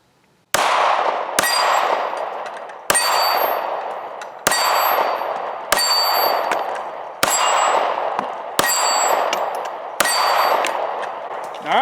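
Pistol rounds strike steel gongs at an outdoor shooting range, some about 10 yards out and one near 25 yards, giving eight loud metallic clangs spaced roughly every one to two seconds, each ringing out before the next.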